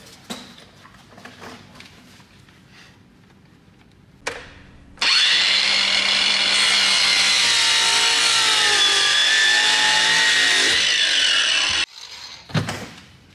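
A Ryobi power tool starts after some quiet handling knocks and runs loud and steady for about seven seconds, then cuts off, followed by a few more clatters.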